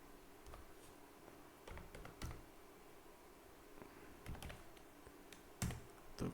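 Keys clatter on a computer keyboard in scattered, quiet bursts of typing with short pauses between, heard close and alone without talk.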